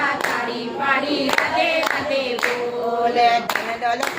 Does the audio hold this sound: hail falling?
no